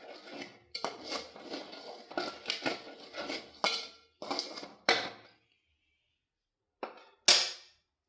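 Crushed ginger and onion stirred in a pan for a ginger curry, with sharp clinks and scrapes of a spoon against metal in quick bursts, then a pause and a couple of final louder taps.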